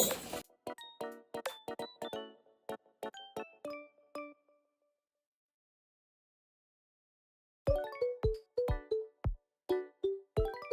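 Small bells on handmade cosplay arm cuffs jingle in two bursts of bright, quick rings with a long silent gap between, close and clear with no talking.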